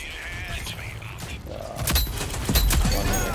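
An SMG fires in the Rogue Company multiplayer shooter, a stretch of rattling shots that gets louder partway through, mixed with mechanical clicks and game noise.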